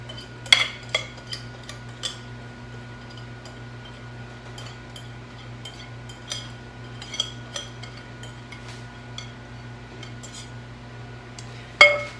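Spoon scraping leftover Jiffy mix cornbread batter from a bowl, a series of soft clinks and scrapes spread out over a steady low hum, with one louder clatter at the end.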